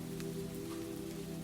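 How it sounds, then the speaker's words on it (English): Gentle, warm rain falls steadily in a soft, even patter on a surface, close and unbroken, with a low hum underneath and no voices. "In every room, the rain was the same, gentle and warm."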